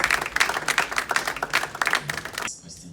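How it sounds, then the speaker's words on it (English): A round of clapping and applause from the audience at an EP listening party, dense and steady for over two seconds, then cutting off abruptly into quieter room noise. "Oh, I thought it would come with a better round of applause for that."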